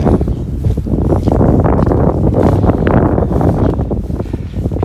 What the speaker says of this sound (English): a little windy down here